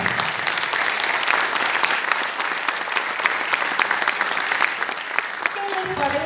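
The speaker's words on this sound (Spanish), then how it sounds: "El aplauso para ella." Live concert audience applauding a bandoneón player coming onstage, a dense, sustained wave of clapping from a large crowd that fades near the end as a voice begins.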